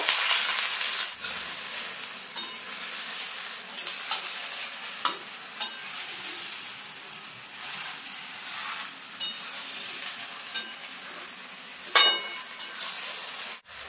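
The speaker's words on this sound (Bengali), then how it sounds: "সেই কুলগুলো কিন্তু তেলের উপর দিয়ে দেবো। এবার নেড়ে নেব।" Cracked jujubes sizzle and spatter in hot oil while being stirred in a pan for a sweet, sour and spicy jujube pickle, with a steady fry hiss and intermittent scraping clicks of the spoon, close and fairly quiet, with no talking.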